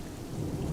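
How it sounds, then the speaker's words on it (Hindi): Heavy rain pours steadily with a low rumble of thunder as a storm builds, a dense, continuous wash of sound at moderate level with no voices. "धीरे धीरे बारिश तेज हो जाती है, साथ ही आंधी भी शुरू हो जाती है"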